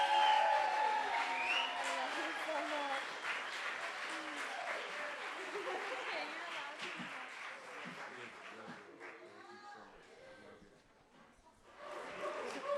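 Wedding guests applaud after a toast, warm clapping mixed with cheers and whoops from a crowd at a reception, fading out near the end before a brief renewed burst.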